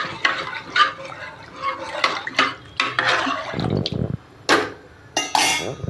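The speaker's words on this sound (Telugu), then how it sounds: "1 గ్లాసు నీళ్ళు యాడ్ చేసిన." A glass of water goes into a pot of mutton curry: splashes and trickles come in short bursts, mixed with clinks and scrapes of utensils against the pot, fairly close.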